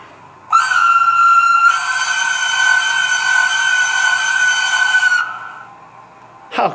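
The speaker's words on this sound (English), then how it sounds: "How cool is that whistle?" Whistle sound effect from a Roco model Swiss mountain locomotive: a loud, steady, steam-style whistle tone that holds for about five seconds, thickens partway through, then tapers off, heard alone with no voices.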